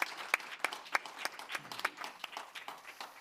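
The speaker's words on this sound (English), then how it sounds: "I really want to ask you to give them a round of applause" Sparse, scattered clapping from a small audience at a security conference panel, a few sharp individual claps standing out over a thin patter for a few seconds.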